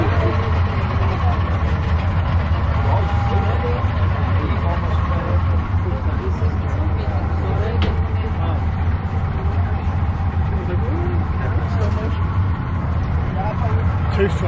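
A two-stroke speedboat engine drones steadily throughout on an island-hopping speedboat tour off Koh Chang, Thailand: a continuous low, close rumble with no clear changes in pace.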